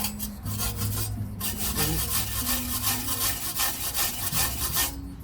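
A wire brush scrubs rust off the wheel hub of a VW Caddy Mk3 during a wheel bearing change, giving steady, close, raspy scraping strokes that run continuously with brief pauses.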